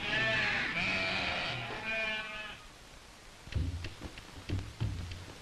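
Sheep of a Gaddi shepherds' flock in the hills of Kangra, Himachal Pradesh, bleat in long wavering calls up close, followed by fainter rustling and shuffling of the flock.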